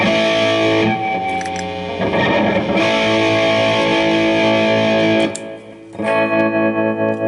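Distorted electric guitar chords played through a tremolo pedal ring out with a pulsing, wavering volume, pausing briefly before strumming again, loud and close with no voices.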